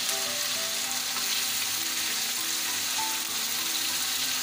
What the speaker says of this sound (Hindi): अब इसके अंदर हम डालेंगे चिकन, ठीक है।